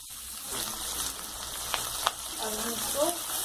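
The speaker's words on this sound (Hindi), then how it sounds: "अब हम इसको गोल्डन ब्राउन होने तक भून लेंगे।" Onion and chillies fry in hot oil in a kadai, a dense close sizzle with a few sharp crackles and spoon taps, while a voice speaks briefly near the end.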